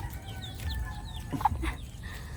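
Faint clucks and peeps from hens and a chick in a backyard coop on a farm in Laguna, soft and scattered over low background noise.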